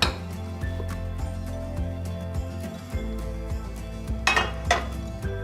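A plate set down on a pan of quesadillas gives several clinks and knocks of crockery on metal, with a low steady hum beneath and a pair of sharper clatters near the end.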